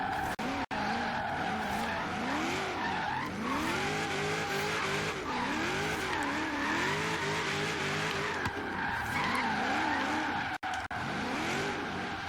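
A car drifts in a driving video game, tires skidding and squealing in long wavering sweeps over a steady, loud engine drone, continuous throughout with no talk.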